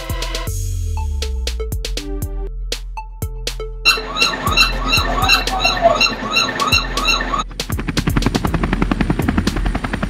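A toy rescue helicopter plays an animated rotor whir with a rapid chopping pulse, mixed with squeaky electronic chirps and clicks, loud and close.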